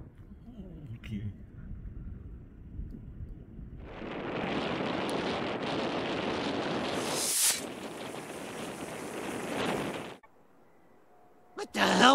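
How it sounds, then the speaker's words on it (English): A PVC rocket motor loaded with sugar fuel and fitted with a number 22 nozzle ignites into a loud, rushing roar lasting about six seconds, with a sharp burst partway through, then cuts off abruptly. Voices are heard before and after. "So, it did explode, but not really the same way, because clearly we have a casing rather than bits."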